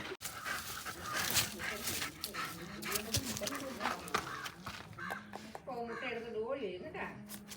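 A dog pants and whimpers close by while people talk over it, with a few faint bird calls in the background.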